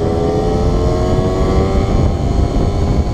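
A motorcycle engine revs up hard and steadily, its loud, continuous drone rising as the bike accelerates, close by with no talk over it.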